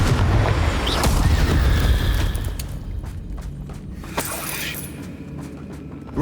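A Confringo spell explodes in Hogwarts Legacy, opening with a loud rumbling boom that rolls on for about two seconds and then fades into scattered crackles and debris.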